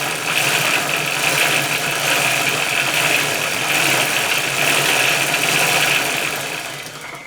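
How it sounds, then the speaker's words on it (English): An engine runs steadily while a wheel is spun by hand to circulate fluid through the system, producing a continuous, fairly loud mechanical whir and hum that fades slightly at the end. "all we've got to do is spin the bloody wheel to get all that fluid going around everywhere"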